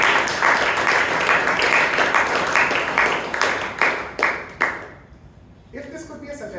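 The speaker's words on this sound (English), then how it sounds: "can we have a huge round of applause for our president?" A room of Toastmasters club members applauds their president at a meeting, clapping strongly at first, then thinning into a few separate claps before it stops and quiet talk resumes.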